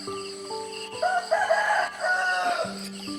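A rooster crows loudly and close by, one long drawn-out call with no other sounds around it.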